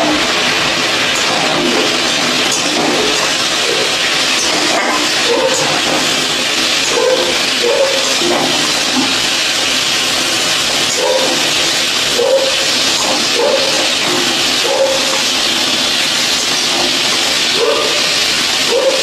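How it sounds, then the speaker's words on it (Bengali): Bitter gourd frying in hot oil in a home kitchen gives a steady, loud sizzle and hiss that runs unbroken for the whole stretch, with no one speaking. "আমি এখানে উচ্ছে ভাজা বসিয়েছি"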